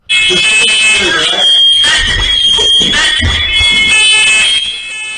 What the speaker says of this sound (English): He set up the smoke alarm for the second time.